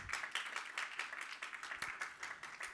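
Congregation in a church service clapping hands together in a steady, continuous patter of many palms, moderately distant and fairly quiet, with no talk over it.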